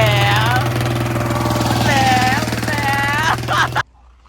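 Modified farm tractor engine running loud and close in a rice-field setting, a steady throbbing diesel chug that rises and falls slightly before cutting off abruptly near the end.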